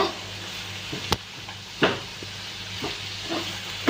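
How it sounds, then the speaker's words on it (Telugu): Green chilies and curry leaves fry with onions in a hot pan, a constant soft sizzle broken by a few sharp clinks and scrapes as the mixture is stirred. "ఇప్పుడు వచ్చి పచ్చిమిర్చి కరివేపాకు అనమాట వేసేసుకొని ఇది కూడా కలిసి కలుపుకొని"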